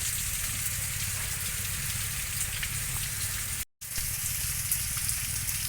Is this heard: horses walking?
no